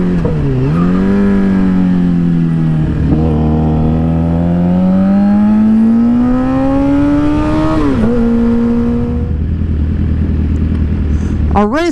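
A car engine revs up through a long rising tone, drops and climbs again while passing a Toyota Prius in a road race, loud and close inside the cabin with steady road rumble beneath.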